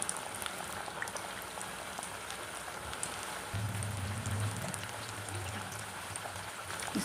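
Sweet tikiya puris deep-fry in hot oil with a soft, continuous bubbling crackle that swells slightly midway, quiet and steady throughout.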